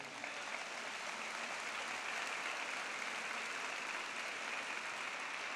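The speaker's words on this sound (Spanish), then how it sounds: "denle un aplauso al Señor" A church congregation applauds steadily, giving a dense, even wash of clapping that holds at the same level throughout with no voices on top.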